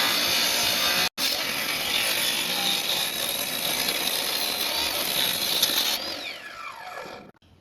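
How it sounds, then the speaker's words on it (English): A power saw rips a wood strip cut from a 2x4 diagonally into a chamfer strip for concrete forms, a loud steady whine running nearly the whole time with one brief break early on, then spinning down at the end. "I ripped the large chamfer strips in half again diagonally to get the final chamfer strip I will use to build the forms"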